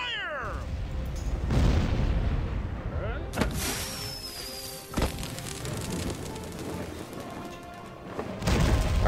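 Cannon fire in the Pirate101 video game: several heavy booms go off amid a busy mix of game sounds, including creature cries.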